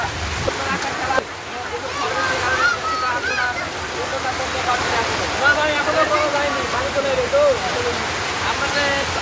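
Rain falls steadily over an open field, a dense wash of water noise lasting throughout, with people talking over it.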